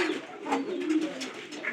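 Domestic pigeons kept in a loft coo softly in a brief, low, throaty burst, close by and quiet, with no voices.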